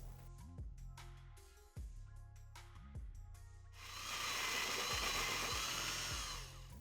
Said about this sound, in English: Now after you've drilled the hole